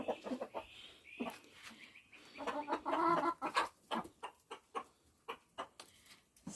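Small-farm chickens clucking close by in a quick series of short, soft calls with a few louder squawks mixed in.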